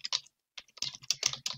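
Fingers type a new table name on a computer keyboard: a couple of quick keystrokes, a short pause, then a rapid run of clicking keys, close and crisp.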